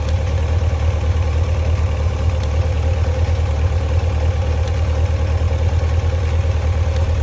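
A motorcycle engine idling after carburettor synchronisation and a cold start, a loud, close, even rumble with a regular low throb and a little clatter, steady throughout with no voices.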